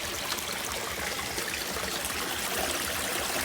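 Clear stream water flows over rocks and fine debris of leaves and sticks in a natural creek, a steady close rushing trickle with no pauses.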